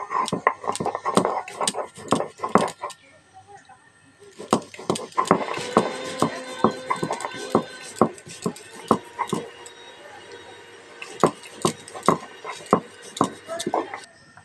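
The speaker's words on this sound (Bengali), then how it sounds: "এবার লঙ্কার পোস্ত শিলনোড়ায় বেটে নেবো।" Chilli and poppy seeds being ground on a flat stone slab with a stone pestle, a series of sharp, repeated knocks and grinding strokes at an uneven rhythm, fairly close, with some quiet talk in between.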